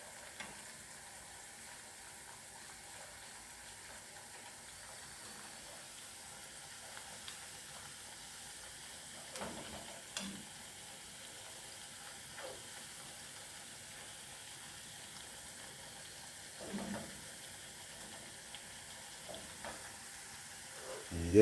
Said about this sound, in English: fry up some plantain this morning.